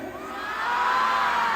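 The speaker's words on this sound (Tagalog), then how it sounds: "Pwede ba tayo sabay-sabay sumigaw ng saan?" Concert crowd at an outdoor show in Quezon City shouting together on cue, a broad sustained roar of many voices that swells and holds loud for about a second and a half.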